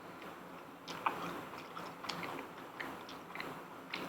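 Someone chews crunchy Korean-style Chinese sweet and sour pork with translucent white coating, giving soft close-up bites and crunches at irregular intervals in a quiet room.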